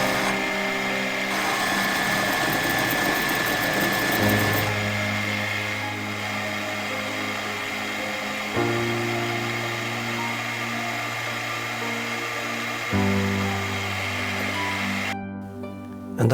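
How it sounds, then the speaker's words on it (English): A milling machine cuts travel-lock bolt holes in a part for an Armortek tank model. Its steady motor whine and cutting buzz shift pitch in distinct steps as each pass changes. "Then I mill out holes indicating the travel lock positions, or the bolts for the travel lock."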